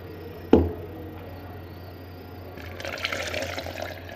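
Water pours from a glass into a blender jar for kadhi, a brief splash followed by a steadier, brighter stream toward the end, close and alone.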